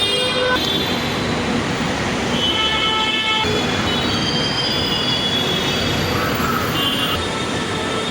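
Mumbai Metro train at a station in Borivali, rumbling steadily with wheel and brake squeal rising and falling across the whole stretch, loud and continuous under the echo of the platform.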